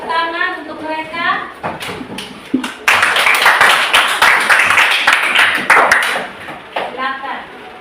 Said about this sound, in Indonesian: kita kasih tepuk tangan untuk mereka